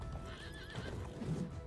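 A beginner horse gallops through a gate in the video game Conqueror's Blade, with rhythmic hoofbeats, a whinny over them, and game ambience underneath, with no talking.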